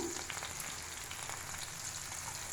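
Ingredients for a gongura peanut chutney fry in a pan, a steady, quiet sizzle with faint crackles throughout and no talk.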